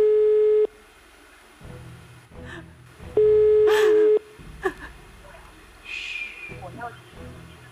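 A telephone line tone while a call is redialed, steady electronic beeps in two separate bursts, with faint voices and breathing in the gaps between them.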